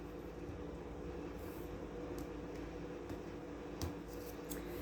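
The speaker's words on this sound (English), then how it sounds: "One more shuffle, we'll cut them 3 times." Tarot cards are shuffled by hand in a steady, close, papery rustle with a few sharper taps and flicks near the end. Nobody speaks.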